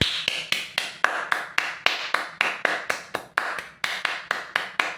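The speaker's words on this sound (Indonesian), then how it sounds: "ini hanya tepuk tangan saya" One person claps hands repeatedly, about twenty sharp close claps in an uneven but steady rhythm, each with a short ringing tail, with no voices.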